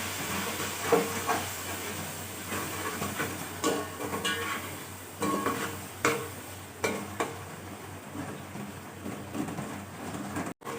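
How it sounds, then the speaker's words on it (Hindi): Cumin and garam masala with crushed and ground red chilli and turmeric roasting in a pan for a green chicken curry, giving a steady hiss broken by intermittent scraping and clinking strokes, close and moderately loud with no talk. "ये ज़ीरा और गरम मसाला। इनको अच्छी तरह से भूनेंगे।"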